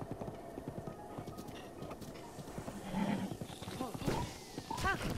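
Horse hooves clip-clop in The Legend of Zelda: Breath of the Wild, a steady rhythmic patter of a ridden horse's steps running through the whole stretch, with game sounds and a talking voice over it.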